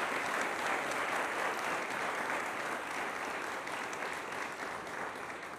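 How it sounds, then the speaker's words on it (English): A county commissioners' meeting audience applauds steadily, a dense, even wash of clapping that holds at a consistent level throughout without voices. "I think they all deserve another round of applause."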